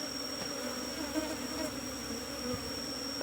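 Honey bees buzz steadily as they are moved into a cultivation hive box, a close, even drone with no talk over it.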